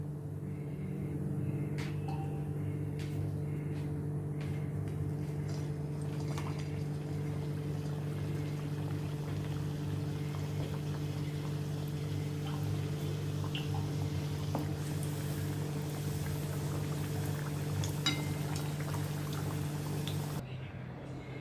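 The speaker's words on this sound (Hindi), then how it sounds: "इसी तरह से अभी मैं सभी ये फ्राई कर लेती हूँ।" Aloo matar kachori deep frying in hot oil, heard as a steady, continuous bubbling hiss with a low hum beneath it, close by and without speech.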